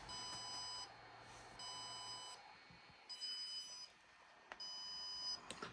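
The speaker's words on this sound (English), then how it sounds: "But it's just beeping away." Walksnail Goggles X FPV goggles beep during a firmware upgrade: quiet, high, regular on-off beeps, each lasting about a second with short gaps, alone in a near-silent room.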